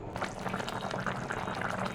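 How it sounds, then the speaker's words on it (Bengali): Water with fried fish boils steadily in a cooking pan for fish curry, a dense continuous bubbling simmer heard close up with no talking. "জল ফুটছে"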